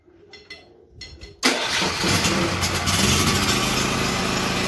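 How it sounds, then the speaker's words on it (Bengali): A 2000 watt self-start generator, run indoors in a room: a couple of brief starter bursts, then the engine catches loudly and settles into a steady, continuous running drone. "দেখুন মেশিনটি অন হলো এবং সেটি শব্দও কিন্তু অনেক কম"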